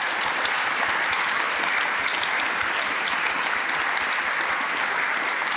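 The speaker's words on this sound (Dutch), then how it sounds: "En ik wil een heel hartelijk en groot applaus voor hen vragen." Audience applause for three speakers at the close of a Dutch panel discussion on the power of judges: steady, dense clapping from a large crowd, sustained and even throughout without any voices over it.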